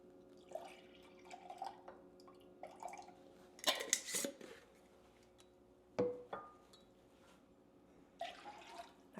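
Freshly squeezed lime juice poured into a cocktail shaker, heard as soft scattered drips and small splashes with a few sharper clinks of the metal shaker, quiet and close, no talking.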